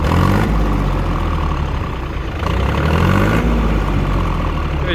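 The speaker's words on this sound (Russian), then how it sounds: "Давайте трактор будем запускать теперь." A Yanmar FX255 25-horsepower tractor's diesel engine, fitted with a rotary tiller, runs steadily at idle, a loud continuous low rumble with a rough mechanical texture and no speech over it.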